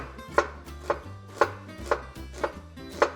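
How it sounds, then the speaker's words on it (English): Six crisp knife strokes chop through an onion on a cutting board, evenly spaced about half a second apart, close and clear with no talking. "when you're cutting, especially an onion"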